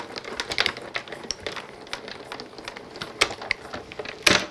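Die-cutting machine rolling card stock through for a snowy Christmas card, a series of irregular close clicks and clacks, some sharper knocks standing out against a quiet background.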